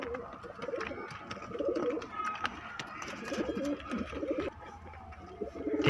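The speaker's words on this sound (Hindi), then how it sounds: "ये देख लो कबूतर भाई, ये भाई सारे कबूतर हैं" Madrasi pigeons coo in low, repeated bursts amid a busy flock, with faint chirps and a soft voice now and then in the background.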